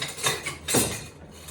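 Metal spoons and utensils clinking and scraping as someone rummages for a spoon in a home kitchen, two short bursts of close, bright jangling with no talk.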